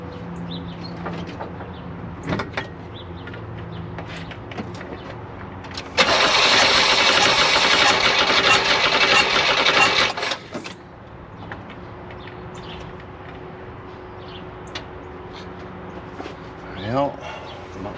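A 1972 Oldsmobile 98 engine cranking without catching: a loud, steady starter churn lasts about four seconds in the middle, with quieter shop noise and someone talking before and after.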